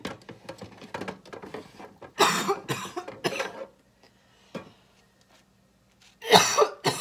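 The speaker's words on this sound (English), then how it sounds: "Still coughing." Someone coughs in several harsh, loud bursts, a cluster early on, then a lone cough and a final pair after a quiet gap, close to the microphone with no talking.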